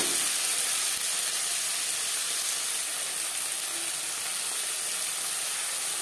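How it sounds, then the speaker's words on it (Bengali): Green chillies and chopped tomato frying in oil in a wok used for frying fish, heard as a steady hissing sizzle throughout, fairly quiet and unbroken, with no talking. "দিয়ে দিলাম কাঁচা লঙ্কা আর টমেটো, যেটা আমি ছোটো ছোটো টুকরো করে কেটে নিয়েছি।"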